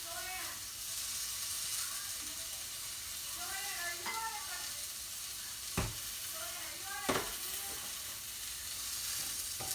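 Chopped onions cooking with dry vermouth in a pan before rice goes in, a continuous close sizzle and hiss with a couple of sharp utensil knocks and some faint tonal whines.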